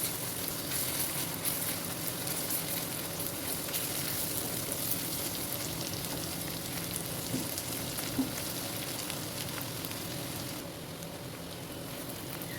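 Onion with crushed ginger and garlic fries in a pan for kaleji masala, giving a steady, dense sizzle that runs unbroken for the whole stretch and drops slightly softer near the end.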